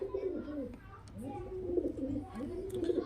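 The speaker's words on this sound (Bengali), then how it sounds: "এগুলা কিন্তু মুর্শিদাবাদী গিরিবাজ লাইনের পায়রা" Murshidabadi Giribaz pigeons coo in a steady, rolling series of low calls, near and fairly quiet, with faint background noise.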